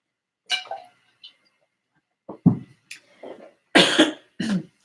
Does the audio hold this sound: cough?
yes